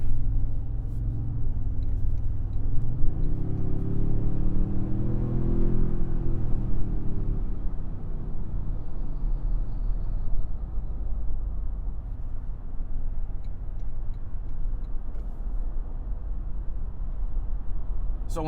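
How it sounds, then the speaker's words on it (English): 2026 Toyota Sequoia Capstone i-FORCE MAX 4WD cruising on the highway, a steady low cabin rumble of road and wind noise with a brief engine swell early on, continuous and fairly loud. "So in terms of road noise and wind noise, it's not bad."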